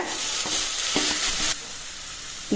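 Steady, loud sizzling of onions frying in a pan, with a few scraping stirs of a utensil, then the hiss softens slightly.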